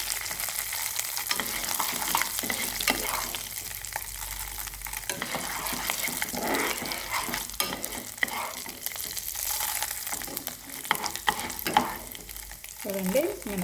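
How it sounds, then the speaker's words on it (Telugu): Urad dal and cumin seeds fry in hot oil in a pan, a loud, close, continuous sizzle with stirring scrapes throughout, and brief voices now and then. "నూనె వేడెక్కాక మినపప్పు, జీలకర్ర వేయించాలి."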